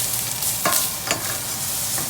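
Shrimp sizzle in a frying pan for shrimp fra diavolo, giving a steady, close hiss with a couple of brief clinks or stirring taps partway through.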